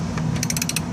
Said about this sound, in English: so we're gonna take these bolts off